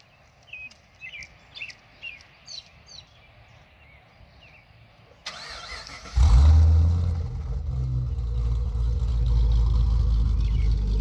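Birds chirp in a quiet outdoor setting before a 2009 Pontiac G8 GT with retuned timing cranks and fires up loudly nearby, then holds a deep, steady, rumbling idle.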